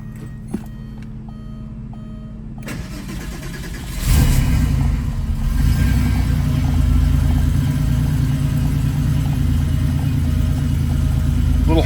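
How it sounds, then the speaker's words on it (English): A 1993 Porsche 964 Targa cold starting: a brief cranking whir, then the engine catches with a sharp burst and settles into a steady, slightly high idle, loud and close, with a faint intermittent beeping early on. "I want to start with a cold start, so I'll do that now"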